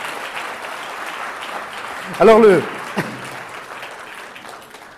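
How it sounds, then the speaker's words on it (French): An audience in a group session claps steadily in broad, even applause to encourage performers, while a single voice speaks briefly over it partway through. "on va les applaudir pour les encourager"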